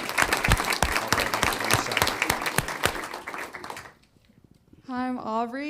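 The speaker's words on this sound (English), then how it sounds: "Round of applause for Sophia." Applause for a student at a school board meeting: a room of hands claps steadily and fairly loudly for several seconds, fades to near quiet, and then a voice begins speaking.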